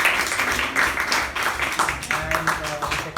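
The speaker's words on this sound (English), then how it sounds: "So a huge round of applause for him." Audience applause for a member at a Toastmasters club meeting, a steady dense patter of many hands clapping throughout, fairly loud and close, with faint murmured voices underneath.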